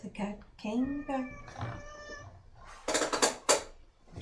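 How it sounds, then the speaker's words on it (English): A pet cat meows a few times indoors, the calls close and fairly clear, mixed with talk and some clattering of dishes during a board game session. "The cat came back."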